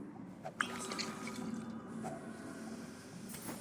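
Sparse water drips in a dank dungeon in the game Darkest Dungeon, a few faint plinks over a low murky ambient rumble, with no talking over them.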